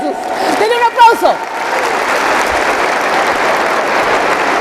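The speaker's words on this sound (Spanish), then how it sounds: "Denle un aplauso a Cristo Jesús, denle un aplauso" A church congregation breaks into sustained applause for Christ Jesus, a dense, even roar of clapping rising just after a preacher's voice.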